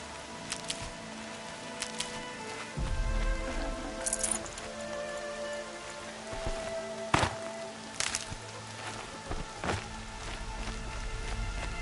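Rain falls steadily in the video game Horizon, a constant hiss broken by scattered thuds and splashes nearby, with no voices.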